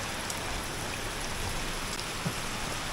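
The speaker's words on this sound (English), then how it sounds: "Oh, that's hardcore rain" Heavy rain pours down at a plant nursery, a steady, dense hiss of drops drumming on surfaces that stays loud and unbroken throughout.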